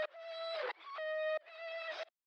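Vocals processed with an Ableton AutoPan effect set to a reverse saw wave, heard as a sustained harmonic tone chopped into three swelling segments that each cut off abruptly, ending in silence.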